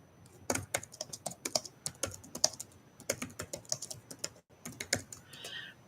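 Close, steady clatter of computer keyboard keys typed in quick bursts with a couple of brief pauses, clear and alone with no speech.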